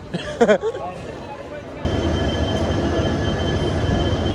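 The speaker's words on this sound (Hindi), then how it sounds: "फाइनली आ गए यार दिल्ली का रेलवे स्टेशन।" Train pulling into Old Delhi railway station, a steady loud rumble of wheels and carriages that rises sharply partway through and then continues, following a few brief voices near the start.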